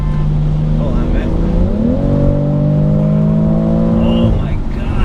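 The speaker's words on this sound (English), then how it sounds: "that sound, it's like an orchestra out of the engine" BMW X3 M40i engine revving hard while off-roading in mud, its tone climbing sharply then holding a loud, steady high-rev drone before dropping away, heard from inside the vehicle with faint voices.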